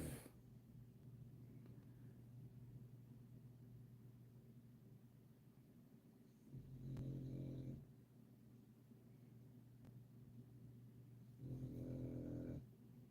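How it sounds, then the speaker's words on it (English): A sleeping dog snores indoors, two slow, low rumbling breaths a few seconds apart, faint and close against a quiet room hum. "Obviously kept the dog interested. He's snoring like."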